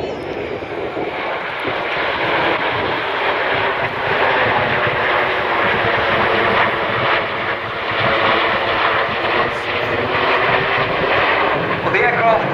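Red Arrows BAE Hawk jets at an aerobatic air show display, a loud continuous engine roar with a commentator's voice running over it throughout.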